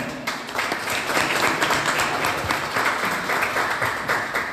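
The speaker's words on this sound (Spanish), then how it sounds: "Un aplauso, por favor." Audience applause welcoming a guest official at a public event in Mexico: sustained, even clapping from a sizeable crowd, loud and continuous for several seconds without voices.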